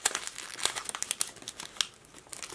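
Sealed Upper Deck hockey trading card pack being opened, a close series of crisp crinkling and tearing rustles of foil wrapper, irregular and quick.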